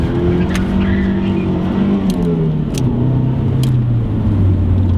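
A car doing a clutch-kick burnout, its engine droning at steady high revs with rising and falling pitch sweeps, loud and close, and spinning tires faint under the engine note.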